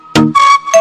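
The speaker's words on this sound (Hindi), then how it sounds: "आपका फोन बज रहा है।" A name-style phone ringtone plays briefly and loudly, with bright electronic tones and voice-like melodic bursts repeating in quick succession.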